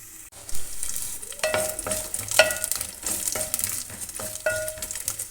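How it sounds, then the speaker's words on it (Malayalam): Two tablespoons of coconut pieces fry in hot coconut oil for a prawn roast, with a continuous bright sizzle close by and spoon stirs clinking against the pan every second or so. "2 ടേബിൾ സ്പൂണാണ് തേങ്ങാക്കൊത്ത് ഇതിലേക്ക് ഇട്ട് കൊടുത്ത് ഒന്ന് ഫ്രൈ ചെയ്തെടുക്കാം"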